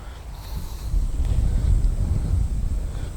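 Wind gusting across the microphone at an outdoor golf driving range, a steady low rumble that swells after the first second and stays loud, with no talking.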